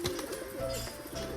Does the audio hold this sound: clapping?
no